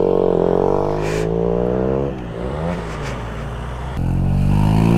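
Motorcycle fitted with an SC Project exhaust revving up close, a loud throaty engine note rising and falling with a dip in the middle before surging again.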